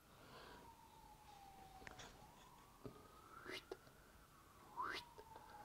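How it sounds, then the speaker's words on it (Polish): An ambulance siren passes along a street outside, its faint wailing tone rising and falling steadily at a distance, with scattered small clicks and handling noises nearby while building a 1:8 scale Polonez 1500 model. "Oho, jedzie pogotowie po ulicy."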